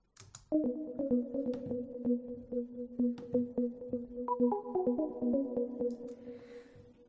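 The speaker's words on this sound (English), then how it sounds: "And this sound is just a sine wave." Smooth sine-wave synth tones hold steady pitched notes with a rhythmic sidechained pumping pulse, shifting to higher notes partway through, with no voices.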